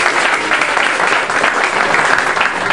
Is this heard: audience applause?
yes